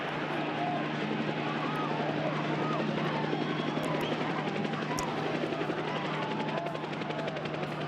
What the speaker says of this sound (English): Oh, it's a helicopter, not a drone.